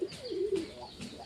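A pet pigeon coos nearby in a few soft, rising and falling throaty calls, fairly faint against a quiet background, with no one speaking.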